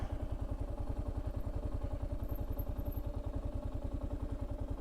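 A Kawasaki KLR 650 motorcycle engine runs steadily at a low idle-like pace, giving a close, loud, evenly pulsing single-cylinder thump throughout.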